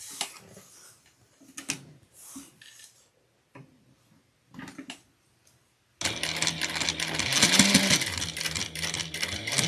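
A sewing machine top stitching a clutch wallet runs in a fast, steady burst for the last few seconds, close and loud, after some quiet clicks and handling of fabric.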